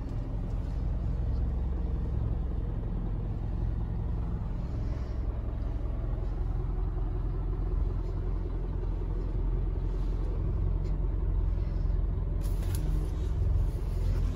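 A 2022 Chevrolet LCF 4500 diesel truck with a 150-inch wheelbase is driven, its engine producing a steady, close, low rumble that holds constant for the whole stretch without talk.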